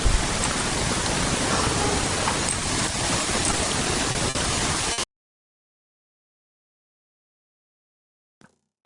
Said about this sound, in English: Oh, that's some serious white noise.